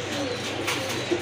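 Pigeons, a pair of fancy breed birds, give a brief low coo nearby, a single soft burst of cooing over faint background noise.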